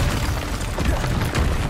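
A Confringo blast spell from the Hogwarts Legacy video game erupts in a loud, dense boom, with rumbling low bursts and crackling debris spreading through the whole stretch of combat sound.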